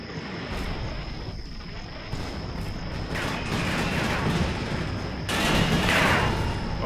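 Battlefield gunfire in the Combat Mission: Fire and Rubble wargame, set in Berlin in 1945, rolling on as a steady, mid-distance clatter of shots with bursts that swell louder toward the end, and no voices.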